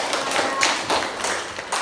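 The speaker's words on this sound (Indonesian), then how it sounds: "Kasih tepuk tangan dulu untuk kelompok" A school class claps for a group of students after their presentation, giving a short, dense patter of many hands clapping together in a classroom. The applause is fairly loud and close, with no one talking.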